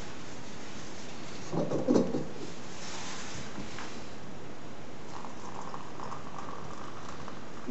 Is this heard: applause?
no